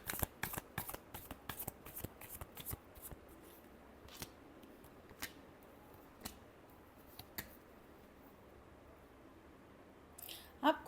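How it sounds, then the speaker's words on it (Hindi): Tarot cards being shuffled by hand in a quick burst of crisp riffling snaps, then slowing to a few scattered single flicks with quiet gaps and a brief rustle at the end. "Last shuffle."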